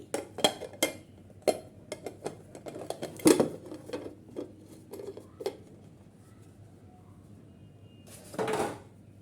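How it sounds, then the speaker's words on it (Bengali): Freshly cooked semolina cake turned out of its pan onto a plate in a home kitchen, a scatter of close clinks, taps and scrapes of metal cookware, with a final louder rattle after a quiet pause. "কেকটা হয়ে গেছে এখন আমি নামিয়ে নিচ্ছি চুলাটা অফ করে দিয়ে এই যে দেখেন আমি ঠান্ডা করে তারপর আপনাদের দেখাচ্ছি আমি একটা প্লেটে ঢেলে নিচ্ছি"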